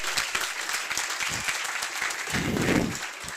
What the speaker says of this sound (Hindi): एक बार जोरदार तालियां सुमित सर के लिए।